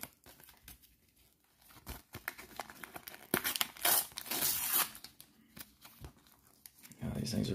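A basketball trading card sticker pack wrapper being torn open: close crinkling and tearing foil, building into a louder rip in the middle, with a voice speaking over it.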